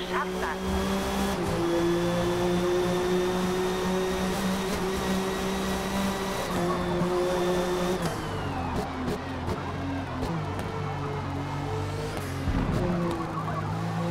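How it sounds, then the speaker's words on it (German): A loud, steady race car engine drone with exhaust rumble in the video game Forza Motorsport holds for several seconds, then shifts pitch as the car decelerates and accelerates again, with brief clicks. "Dieser Auspuff-Sound irgendwie ist voll geil."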